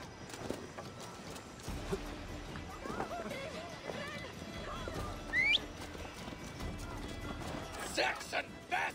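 A horse gallops in the Viking action game Assassin's Creed Valhalla, hoofbeats thudding in a quick rhythm amid game ambience and a short whinny, with voices talking over much of it.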